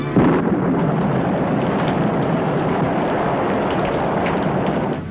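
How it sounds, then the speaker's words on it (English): A steady, loud roaring wash of pouring rain with thunder, a rumbling low undertone, continuous throughout without breaks or voices. "Down came a thundering torrent of rain."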